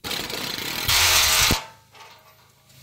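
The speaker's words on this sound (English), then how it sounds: "Just put this on here. The impact gun." An impact gun removing a bolt from an F150 bumper: a loud, steady rattling whir for about a second and a half that rises briefly, then cuts off, leaving quiet background.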